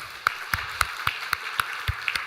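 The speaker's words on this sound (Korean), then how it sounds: "우리 박수로 격려하도록 하겠습니다." A church congregation applauds during a Sunday service at Samcheok Jungang Church after new deacons are proclaimed, with a steady run of distinct claps over a soft crowd wash, moderately loud and without talk.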